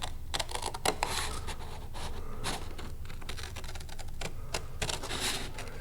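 Scissors snipping slowly through a sheet of drafting paper along a drawn line, a run of soft, irregular crisp cuts close by, with brief louder snips scattered across a steady low background hiss.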